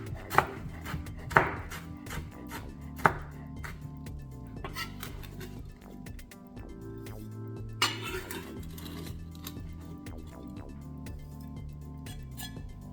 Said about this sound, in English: So all I'm going to do is I'm just going to give it a good slice up.